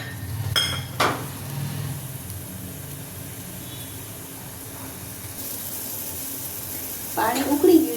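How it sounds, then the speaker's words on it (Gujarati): Water with a little garlic, ginger and oil added comes to a boil in a cooking pot, giving a faint continuous bubbling hiss with occasional clinks of pots and utensils, with no talking. "હવે પાણીને આપણે એકદમ સરસ રીતે ઉકળવા દઈશું।"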